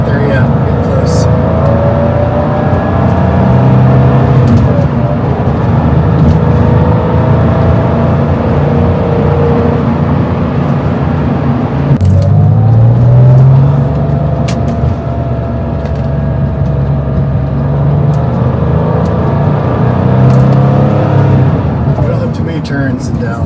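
The engine of a 1996 Porsche 911 Carrera hums steadily while warming up as the car drives, a loud continuous drone with gear-change shifts in pitch, under near-constant talking from inside the cabin.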